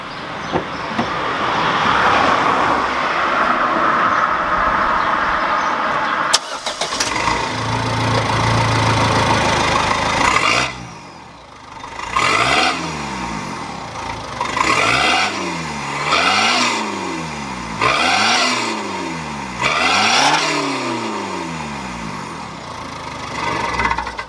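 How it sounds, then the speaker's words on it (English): A Ford Fiesta TDCI ST diesel engine runs with its exhaust removed, straight-piped, idling loudly before a series of sharp revs that rise and fall in repeated bursts, close and raw. "we've got to start it up without an exhaust on it, straight pipe"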